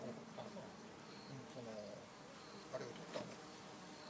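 Japanese honey bees, Apis cerana, hum faintly and steadily around a small hive of about 300 bees outdoors, with soft background sounds and a few brief louder noises.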